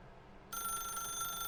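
A telephone in The Stanley Parable video game starts ringing partway through, a steady electronic trill that holds loud and constant after a brief quiet start.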